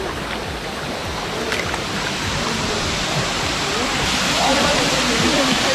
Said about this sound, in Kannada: ಇದೇ ಎರ್ಮೈ ಫಾಲ್ಸ್.